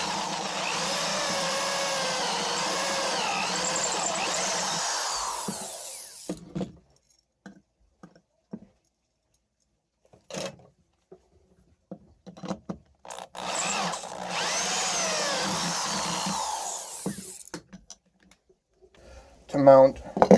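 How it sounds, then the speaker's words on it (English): A power drill bores a hole in a steel spring clamp in two sustained whirring bursts of about six and four seconds, close and fairly loud, with quiet handling clicks between them and more at the end. "I need to drill a hole in here."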